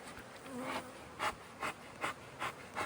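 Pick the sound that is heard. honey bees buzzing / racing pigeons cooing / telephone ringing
honey bees buzzing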